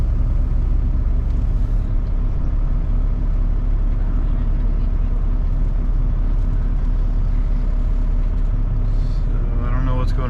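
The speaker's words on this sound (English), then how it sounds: "So I don't know what's going on with this trash truck," A trash truck engine runs in a busy street with other delivery trucks around, a loud steady low rumble close by, with a brief hiss near the end.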